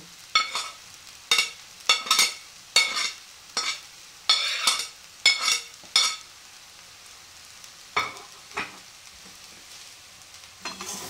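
Prawns with black pepper and soy sauce stirred in a pan over low gas, a series of distinct scraping stirs in quick rhythm over a faint sizzle, then sparser strokes, close by.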